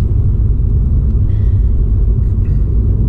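A Mini Cooper S F56 cruises on the road after a brake bed-in, a loud, steady low engine and road rumble heard from inside the car, with no talk.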